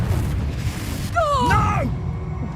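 A magical blast erupts in a wizard video game as a Confringo spell strikes, a swooping whistle of rising and falling tones leading into a booming burst over a low rumbling game soundscape.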